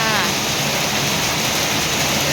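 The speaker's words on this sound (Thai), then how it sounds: "ตอนนี้ก็คือ ฝนตกหนัก ฝนตกแห้งหลายจ้ะ" Heavy morning rain pours down in a dense, unbroken roar, loud and close, filling the whole stretch with steady hiss and no pause.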